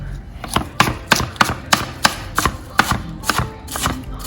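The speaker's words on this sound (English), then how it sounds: "next we're gonna cut up some cabbage" A knife chops cabbage on a cutting board for vegan dumplings, about a dozen crisp, evenly spaced thuds in a steady rhythm, close and fairly loud, with no talking.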